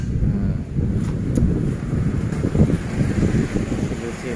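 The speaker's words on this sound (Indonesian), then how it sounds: "Wah, anginnya seger banget teman-teman, silir-silir enak, anginnya silir-silir enak." Fresh outdoor breeze buffets the microphone with continuous low rumbling gusts, loud and close, with no voices over it.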